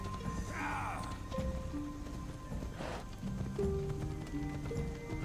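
A horse in the video game Assassin's Creed Odyssey clip-clops along with a brief whinny, hoofbeats running beneath soft game music tones.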